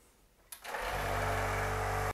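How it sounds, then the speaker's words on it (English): A workshop vacuum starts up abruptly and settles into a loud, steady motor whine with broadband rushing air, used to clean powder from an SLS 3D printer, close and alone with no talk. "Workshop vacuum."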